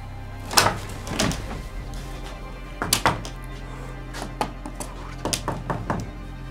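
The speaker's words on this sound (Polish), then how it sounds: "Nie trzaskaj, rozwalisz te drzwi." A door is banged and slammed repeatedly, heavy thuds and knocks arriving in uneven clusters, some sharp and loud, others softer, over a low steady hum.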